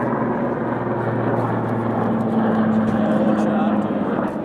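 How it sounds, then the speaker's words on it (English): Helicopters pass overhead at an airsoft convention, a steady broad rotor drone with a low hum running throughout under nearby chatter. "The choppers."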